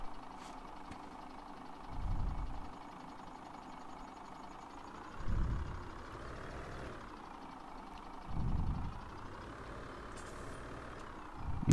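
A car passing by in the farming game Landwirtschafts-Simulator 17, with a low engine rumble under steady game ambience and three brief swells that rise and fade about every three seconds.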